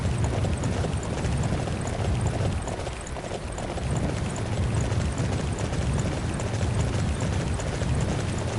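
Dense, continuous thudding of a horse galloping across rooftops in Dynasty Warriors 9, a steady rumbling rush of hoofbeats that fills the whole stretch without pause.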